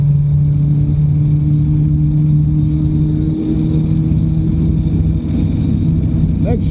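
A Baja 1000 race vehicle with a failing gearbox pulling hard at high speed, heard from inside as a loud, steady engine drone with a constant low hum and road rumble.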